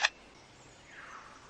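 A superb lyrebird mimics a camera shutter: two crisp, close clicks about one and a half seconds apart, with near silence between them.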